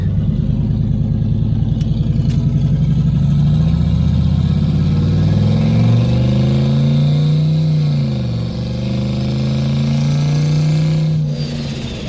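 A turbocharged LS-swapped GMC Sierra pickup truck drives off, its engine droning loud and close with rising and falling pitch as it accelerates and shifts, then eases near the end.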